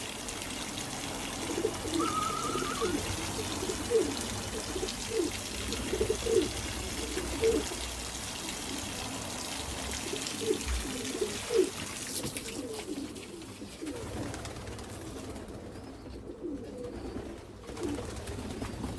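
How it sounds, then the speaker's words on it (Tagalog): A racing pigeon coos repeatedly in low, rhythmic bursts close by, with a faint trickling sound underneath, before things go quieter toward the end. "Papakita ko nga pala sa inyo si Grisel, yung dumating nating ibon ngayong araw na to."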